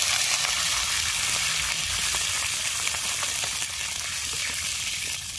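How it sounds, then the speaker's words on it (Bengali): Water poured into a pan of deep-fried, browned onions for a Bengali chicken biryani hisses in a loud, steady sizzle that holds for several seconds, with faint stirring scrapes underneath. "এবার এর ভিতরে পুরো জল ঢেলে দেবে"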